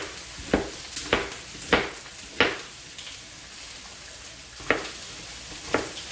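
Yellow onions sizzle steadily in a pan, with several sharp stirring scrapes breaking through the soft frying hiss at irregular intervals, close and fairly quiet, with no talking.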